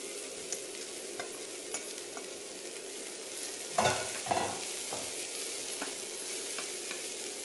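Vegetables are stir-fried with garlic in a pan, giving a steady soft sizzle with a few louder scrapes and tosses partway through, heard close with no voices.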